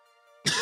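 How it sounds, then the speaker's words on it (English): A single sharp cough bursts out near the end, close and loud, following a faint tonal hum. "I'm coughing a lot again."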